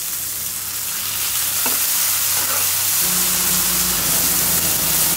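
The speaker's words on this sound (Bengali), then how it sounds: "মশলাটাকে ভালো করে কষাতে হবে।" Spice paste of garlic, ginger, chili and ground spices sizzling steadily in a pan, a continuous frying hiss with low stirring scrapes and a few brief clicks, close and alone.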